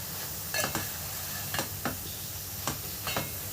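Andhra style curry frying in a pan, a steady close sizzle with several sharp scraping stirs of a spoon at irregular intervals.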